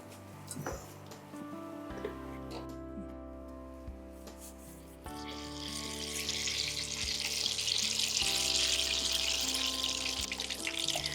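Tomato bondas deep frying in hot oil, a steady crackling hiss that grows denser and louder midway as the heat comes up, with no talking.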